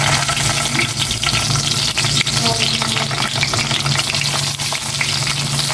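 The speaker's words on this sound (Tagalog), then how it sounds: "Iprito ko naman na itong talong" Sliced eggplant frying in a pan on a home stove, a loud, dense, continuous sizzle with crackling spatter throughout, close up, with a low steady hum beneath and no talk.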